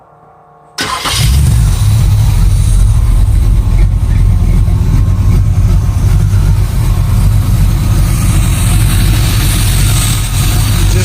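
A freshly swapped V8 in a Chevy S10 with an over-tight belt fires up abruptly after a moment of quiet and settles into a loud, close, steady rumbling idle with a faint belt whine on top.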